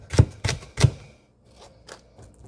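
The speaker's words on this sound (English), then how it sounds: "we're just going to quickly chop this up" A knife chops an onion on a board: three firm, evenly spaced cuts close up, followed by a few softer, lighter taps as the chopping trails off.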